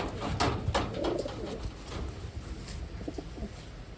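Racing pigeons from Taiwan coo softly and repeatedly in a loft, the low burbling calls layered over a continuous noisy background with no voices.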